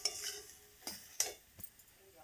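Bhetkul leaves frying in a pan with lemon juice, heard as faint scraping stirs and soft clinks against the pan over a quiet sizzle, with a few separate strokes.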